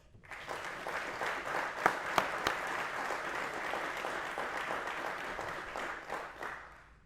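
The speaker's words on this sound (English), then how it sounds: "please give the guests of 1162 a round of applause" Sustained audience applause at a law enforcement class graduation ceremony, a dense wash of many hands clapping steadily for several seconds with a few sharper claps standing out, then tapering near the end.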